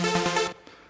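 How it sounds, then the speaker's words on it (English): A synth lead in Logic Pro sounds a third interval as a short pulsing tone lasting about half a second, then cuts off sharply, leaving a faint tail. "That's a third. It sounds like this."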